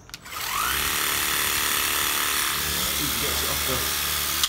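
A Worx Hydroshot cordless pressure washer sprays a motocross bike, giving a steady, loud motor whine with hissing water jet that runs continuously for several seconds after a brief start, ending with a short bump.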